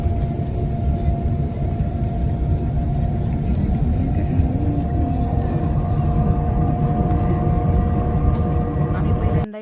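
A luxury bus cruises at speed on a long trip in Rajasthan, a steady low engine and road rumble filling the cabin throughout, with passengers talking over it.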